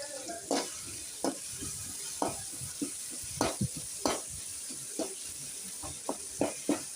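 Onions and curry leaves sauté for a mutton curry with a soft, steady sizzle, as a spoon stirs and scrapes the pan in intermittent knocks.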